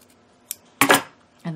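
Scissors snip into quilted fabric for a mug rug, giving two or three short crisp cuts close by, with brief rustling of material between them.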